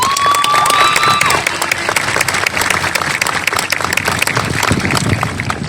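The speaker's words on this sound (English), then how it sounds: "So let's give her a round of applause, please." A graduation ceremony crowd breaks into loud, sustained applause, dense clapping holding steady throughout with a brief whistle near the start.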